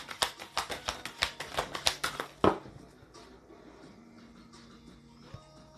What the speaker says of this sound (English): And then this is your last shuffle.